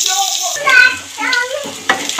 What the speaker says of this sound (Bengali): আলু সিম মূলো লাল লাল করে নুন হলুদ দিয়ে ভাজা হয়ে গেছে।